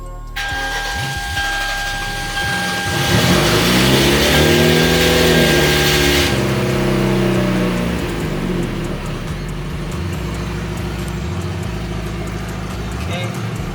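A Hyundai Genesis Coupe running a new AlphaX ECU base map cranks and starts, then revs up loudly with rising and falling engine tones before settling into a steady idle, with a voice talking over it.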